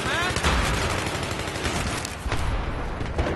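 Rapid gunfire rattles in the video game Battlefield 3, dense bursts of shots with a voice briefly heard beneath the shooting.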